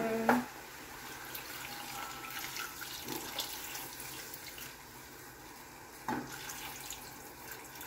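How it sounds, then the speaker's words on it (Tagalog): Water runs steadily into a cooking pot of chicken adobo at a modest level, with a few sharp clinks and knocks at the start and near the end. "Add water."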